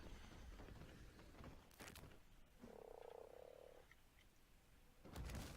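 A devil toad in Ark: Survival Evolved lets out a single drawn-out, buzzing croak midway, surrounded by game ambience with footstep-like thumps and whooshes before and after.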